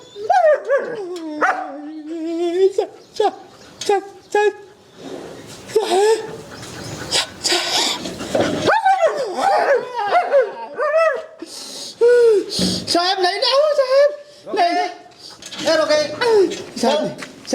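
Dogs bark and whimper repeatedly in a village comedy scene, close and loud, tangled with people shouting and talking over them throughout.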